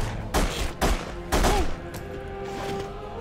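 Several sharp gunshots in The Punisher action game, fired in uneven bursts of three or four heavy cracks with brief echoing tails, close and loud, no voices.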